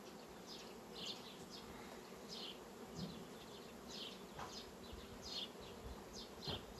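Honeybees buzz steadily and softly up close around hive frames, individual bees drifting past in repeated hums over a constant low drone.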